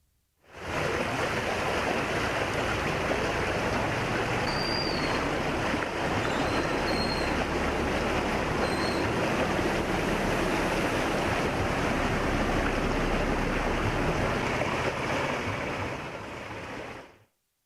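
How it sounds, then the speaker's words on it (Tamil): Floodwater from the overflowing Seriyanthal lake in Tiruvannamalai rushing across a road makes a steady, dense roar that stays loud and unbroken throughout, with no talk. "திருவண்ணாமலை சேரியந்தல் ஏரி நிரம்பி சாலையில் பெருக்கெடுத்து ஓடும் வெள்ள நீரால் வாகன ஓட்டிகள் கடும் அவதியடைந்து வருகின்றனர்"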